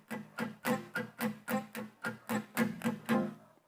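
Palm-muted guitar strumming in a steady run of about ten short, damped, chunky strokes, each cut off quickly, played close and fairly quiet with no voice over it.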